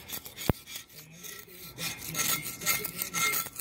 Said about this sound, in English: So let's keep scraping, see what else we can come up with.